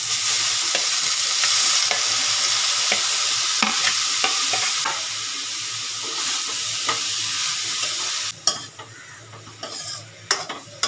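Bottle gourd sizzles and fries in a pan while ingredients are added and stirred, with steady frying hiss, scraping strokes and clinks of a utensil against the pan, quieter toward the end.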